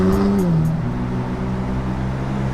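A McLaren sports car engine drones loud and close, its note falling in pitch early on before settling into a steady, sustained hum as the car drives on.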